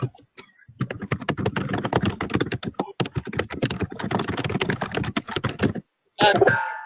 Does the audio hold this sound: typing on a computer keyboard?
yes